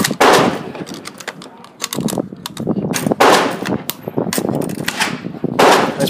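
Rapid sharp reports from a Yugoslavian SKS M59/66 rifle, several loud close shots in an irregular string with brief ringing gaps between bursts.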